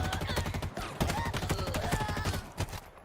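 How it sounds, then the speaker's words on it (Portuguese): Gunfire from an Xbox video game trailer: a rapid, steady burst of automatic shots with a tight, even rhythm, loud and dense over a busy game soundtrack. "Fiquei impressionado com a cadência do tiro da arma."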